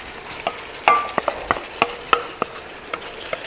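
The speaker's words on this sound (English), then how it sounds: "just going to stir it all up in this nice pan" Shrimp, scallops, asparagus and snow peas being stir-fried in a pan: a string of sharp utensil scrapes and clinks about every third of a second over a faint sizzle, close and without speech.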